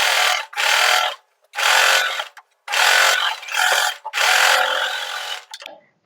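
A sewing machine top-stitches along a blouse lining in five loud, close bursts of rapid whirring, separated by short silent pauses.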